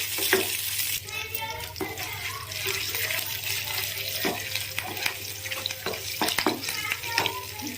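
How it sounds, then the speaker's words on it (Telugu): Cumin seeds, dried red chillies and curry leaves fry in hot oil for a tomato-coriander chutney tempering, with crackling sizzle broken by irregular pops and spoon scrapes against the pan, close and busy. "కొంచెం జీలకర్ర, ఒక 2 ఎండుమిర్చి, కొంచెం కరివేపాకు వేసుకొని మంచిగా ఫ్రై చేసుకోవాలి"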